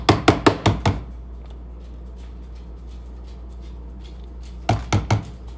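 A knife chops food on a board in two quick bursts of about five firm, close chops each, with a quiet pause between them.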